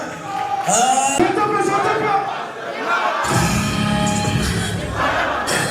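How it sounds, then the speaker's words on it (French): A crowd at the official launch of a youth sports challenge in Natitingou cheers and claps loudly, with shouting and voices throughout and a short surge of louder cheering near the end. "Est-ce qu'on peut l'applaudir très très fort, s'il vous plaît?"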